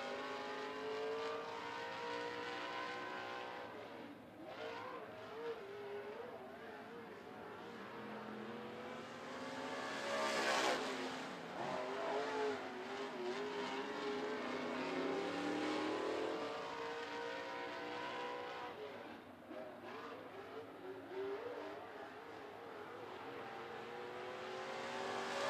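Race cars lap the 411 Motor Speedway track during a sportsman qualifying session, their engines rising and falling in pitch as they pass, swelling loudest midway, then fading and returning, without talk.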